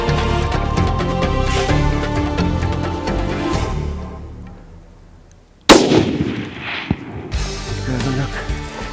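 Rifle shot fired while hunting in Namibian bush, a single sharp loud crack that follows a stretch of talk and a quiet pause, with more voices after it.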